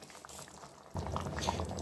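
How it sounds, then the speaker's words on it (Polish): A thickened mushroom and prune sauce with beef patties simmers in a pan, giving soft, quiet bubbling that grows slightly busier halfway through. "sos nam zgęstniał, on sobie tak malutko bulgocze"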